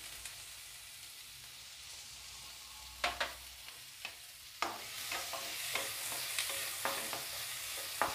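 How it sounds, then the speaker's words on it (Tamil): Onions frying and being stirred in butter for a veg bird's nest dish, with a steady soft sizzle and intermittent scraping stirs that grow more frequent in the second half. "பட்டரில் நல்லா ஆனியன் வறுப்படும் போது நல்லா ஸ்மெல் வரும்."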